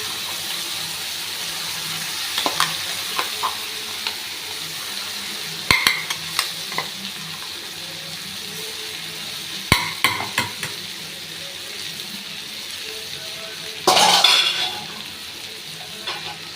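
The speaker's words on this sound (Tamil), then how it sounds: "இப்போ நம்ம நைஸாக அரைச்சி கொண்டு வந்த இந்த வாழைப்பூ பேஸ்ட் இதில் ஆட் பண்ணிக்கலாம்" Banana flower paste sizzles in oil tempered with mustard and cumin and is stirred with a spoon, giving a steady frying hiss broken by several sharp scraping clinks.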